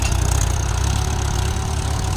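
A tractor pulling a disc harrow through a farm field runs with a steady, loud, low engine drone and constant mechanical rumble, with no voices over it.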